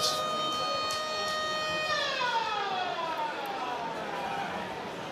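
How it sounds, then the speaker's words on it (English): A siren wails at a York versus Hull KR rugby league match, a long sustained tone that slides downward partway through, carried over steady crowd and ambient noise. "There goes the siren in the background"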